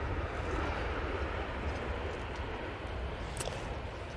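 A jet airliner rumbles steadily at a distance, a broad low roar holding even throughout, with the steady wash of an airport setting at Manchester behind it.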